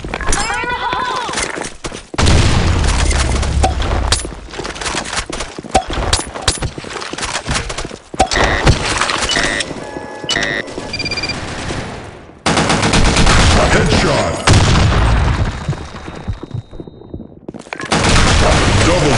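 A video game firefight with a grenade blast and repeated bursts of gunfire, loud and dense throughout, with sharp breaks between volleys and voices calling out over the noise.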